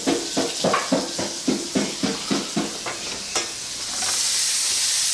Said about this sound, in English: Stir up the opie a little bit.